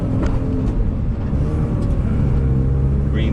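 A car rolls out onto the Hockenheimring circuit in Germany during a trackday, its engine a steady close low rumble with cabin noise and no talking.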